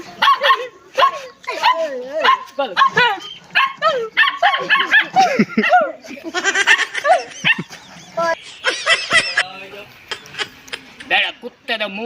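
A dog barks and yips near the microphone in bursts amid excited human voices talking over it, with some whimpering and clinking in the mix.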